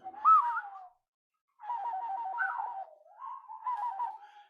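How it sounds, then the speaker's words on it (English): A person whistles with the tongue pressed to the roof of the mouth, making a short warbling call, a pause, then a longer wavering trilled phrase, clear and close with no talking. "Can you whistle like that?"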